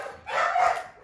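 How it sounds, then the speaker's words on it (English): An excited dog barks in the background while it waits to go outside, giving a short, fairly loud burst of sound that swells and fades over about a second. "that's my dog in the background being very excited"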